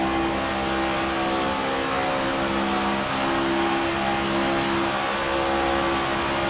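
A NASCAR stock car engine in the NASCAR 25 racing game roars steadily and loudly at sustained high revs for several seconds, with no talk over it.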